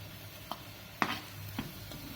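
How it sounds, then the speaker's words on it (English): Paneer cubes and peas being gently stirred in a pan, a few soft, separate taps and scrapes of a utensil against the pan, quiet over a faint background hum. "To mix it gently so that paneer pieces shouldn't break."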